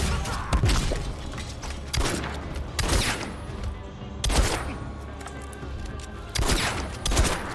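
Gunshots in a Mortal Kombat 11 tournament match, a series of sharp loud bursts and impacts in uneven clusters over a busy game soundtrack, with faint voices in the background.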